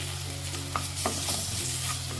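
Ginger garlic paste sizzles with onions in a hot pan, a steady close frying hiss broken by a few scraping stirs, with no talking.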